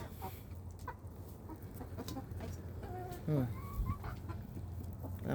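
Backyard chickens cluck and chirp close by over a low background murmur, with a few louder calls scattered through.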